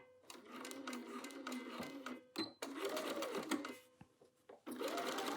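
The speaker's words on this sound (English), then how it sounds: "here we are at the machine, and we're just going to start right from that point, sew across" Sewing machine stitching across two opposite curves of a garment collar, running in steady bursts with brief pauses between runs, close and loud.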